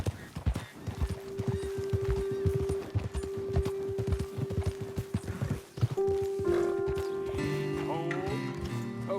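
Horses clip-clop steadily and close through most of the stretch in a dense rhythmic patter, joined by a long sustained tone and a brief whinny, then settle as riders come to a stop before dismounting.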